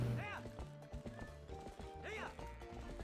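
A horse gallops in Zelda: Twilight Princess HD, quick clip-clop hoofbeats with whinnies over game music, while someone talks.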